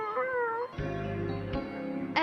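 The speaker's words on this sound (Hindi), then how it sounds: "इस बिल्ली को बचाया है" A cartoon cat gives a drawn-out meow with a wavering pitch, close and clear, followed by a brief low rumbling sound.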